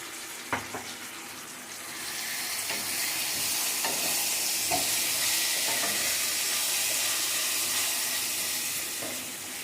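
Spice mixture sizzling and frying in a pan with fried onions for bottle gourd biryani. A steady hiss is broken by several clinks of stirring, with no talking.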